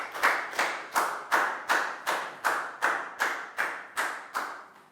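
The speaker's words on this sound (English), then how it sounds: "And a big round of applause for Pak Bung," A classroom of students clapping for a classmate in a Year 4 English lesson, about ten evenly spaced, rhythmic rounds of claps, close and clear with no talk.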